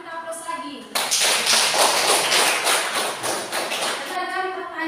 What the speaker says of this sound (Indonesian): Mari kita aplaus lagi.